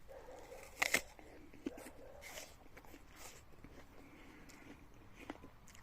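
Crisp crunch of a bite into a Frost Bite winter apple, close and fairly quiet, with one sharp snap early on followed by a few smaller crunches and chewing sounds over a hushed background.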